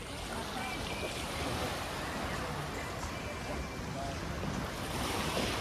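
Continuous rushing surf on Chaweng Beach, Koh Samui, with waves washing steadily and wind noise on the microphone, an even, dense roar with no distinct breaks.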